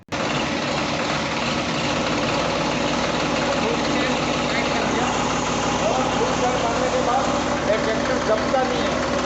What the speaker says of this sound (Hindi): चालू करते हैं ट्रैक्टर